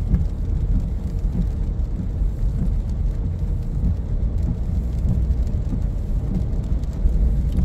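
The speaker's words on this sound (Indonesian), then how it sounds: "Kita langsung disambut oleh hujan." Heavy rain drums on a moving car on a road trip arriving in Jakarta, a dense steady roar with a low rumble of driving underneath, close and loud throughout, with no speech.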